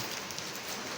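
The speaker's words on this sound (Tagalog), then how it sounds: "Maulan na umaga." Morning rain falling steadily outdoors, a dense even hiss of drops filling the whole moment without pauses or voices.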